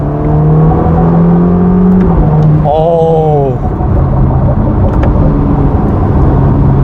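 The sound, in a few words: Ferrari Roma 3.9L V8 turbo engine accelerating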